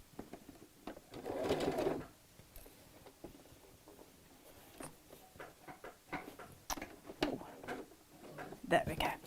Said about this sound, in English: Just got a loose connection in my sewing machine foot. Right, now we're away.